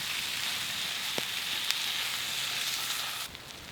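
Sliced red onions fry in oil in a pan over a campfire, giving a steady, close sizzling hiss with a couple of faint clicks, and the sizzle drops slightly near the end.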